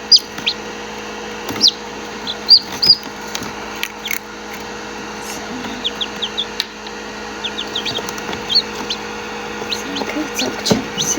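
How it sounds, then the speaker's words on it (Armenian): Newly hatched chicks peep in quick high chirps while hens cluck softly nearby in a backyard coop, with scattered bumps and a low steady hum underneath. "Երեք հատ ճուտիկ։ Ճուտիներ։"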